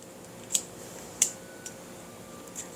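A Louis Vuitton Paris padlock is opened with its small key: two crisp metallic clicks about a second apart, then a couple of fainter ticks, all quiet and close over a hushed room with no talk.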